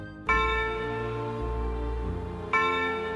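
A bronze church bell of the St. Petri church in Barbis, once belonging to Scharzfels castle, rings with two loud, resonant strikes about two seconds apart, each leaving a long humming decay.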